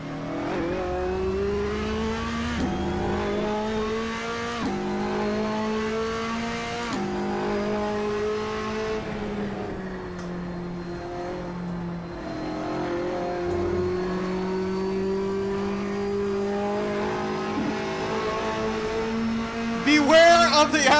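In the Assetto Corsa racing game, a race car engine revs and whines through repeated rising gear pulls and shifts, fairly loud, with someone speaking over it and a sharp squeal at the end.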